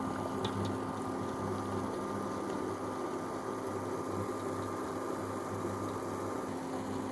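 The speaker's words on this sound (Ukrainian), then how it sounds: "Вода вже закипіла наша." Water boiling in a pot as a steamer for an omelette, a continuous low bubbling rumble with a faint steady hum, even in level throughout and with no talk over it.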